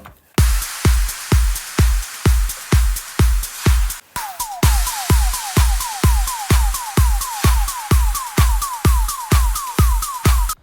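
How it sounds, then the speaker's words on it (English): A pounding electronic beat with a bright, noisy riser sweep over it, and short descending pitch swoops repeating in rhythm through the second half. "just a couple more downlifters and risers throughout the drop"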